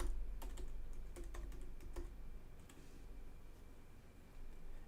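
Typing on a computer keyboard to enter a search term on a website, heard as a few faint, quick key taps early on, then fading into quiet room hum.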